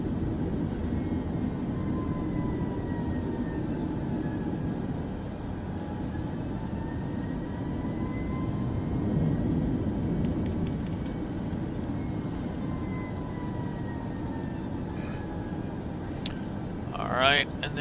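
Steady airplane engine drone while cruising in Microsoft Flight Simulator 2024, a continuous even hum throughout with a brief click near the end.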